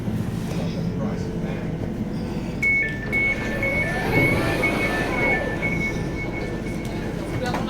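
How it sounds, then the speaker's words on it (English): An Elizabeth line train running from Shenfield toward Heathrow gives a steady interior rumble, with a high electric motor whine that starts partway through and rises in pitch as it accelerates. "This is the train to Heathrow Terminal."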